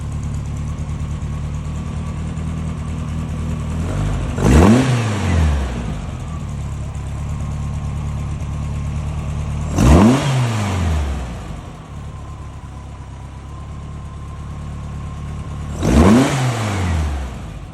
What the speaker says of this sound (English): I'm going to go ahead and rev it up. So you can hear the power band.